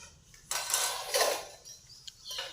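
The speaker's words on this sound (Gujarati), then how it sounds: "આ વાસણ ઉટકે છે" Metal utensils being scrubbed clink and clatter against each other in a few scattered bursts, fairly quiet, with no talking.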